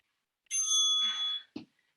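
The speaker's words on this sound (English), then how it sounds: "bell has sounded" A single bright ring of a small bell marks the end of a workout, a clear metallic ding lasting about a second before a short soft knock, then silence.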